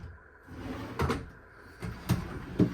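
A large pull-out drawer in a 2023 Riverstone Legacy 39RKFB RV slides open and shut with several hollow wooden thumps and soft rolling rumbles, close and fairly quiet.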